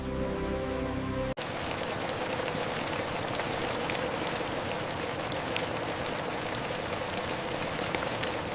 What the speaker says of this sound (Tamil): மழை வருகிறது.